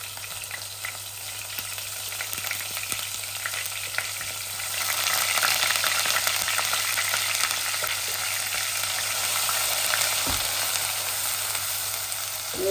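Grated onion hitting hot oil and frying, with a steady broadband sizzle that swells louder midway and holds, a faint scrape near the end; no voices.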